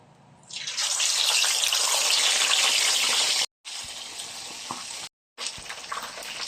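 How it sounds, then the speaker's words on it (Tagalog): Chicken for nasi lemak drops into hot oil and sizzles loudly and close, a steady hiss broken by two sharp gaps, likely where the sound is cut. "Ngayon, fry na natin yung ating chicken."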